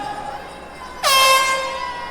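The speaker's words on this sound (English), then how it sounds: "Air horn." A single loud air horn blast sounds abruptly after a quiet moment at a graduation, a brassy, sustained honk that slowly fades.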